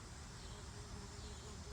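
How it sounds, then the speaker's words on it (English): A bee buzzes close by outdoors, a steady, continuous drone that holds at an even level throughout, with no voices over it. "Shut up, bee."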